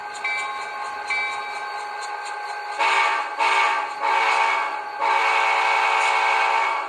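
An Athearn SW1500 model locomotive's DCC sound decoder hums with a low idling drone, then sounds its horn in several short, loud blasts.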